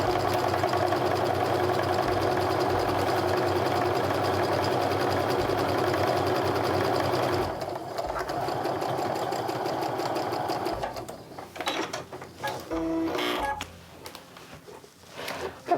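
A home sewing machine chain-pieces quilt blocks, its needle running in a steady, fast whir for several seconds, then stopping and restarting in short bursts, fairly close.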